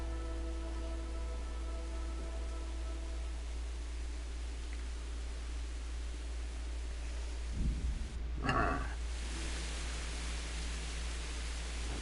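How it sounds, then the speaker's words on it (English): Steady broadband rain hiss from the medieval RPG Kingdom Come: Deliverance, with a low hum and faint tonal bands beneath it and a brief thump and crackle near the end. "We will attack in the rain, I guess."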